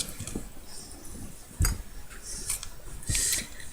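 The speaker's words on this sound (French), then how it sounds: "avec le ciseau on va couper ce qui va d'effacer" Two sharp crisp snips of scissors slicing through masking tape, close up, separated by quieter rustling and handling noises.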